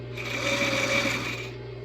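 A sewing machine runs a reinforcement seam on a ruffled strap dress, a steady, even mechanical whir that holds at close range without a break.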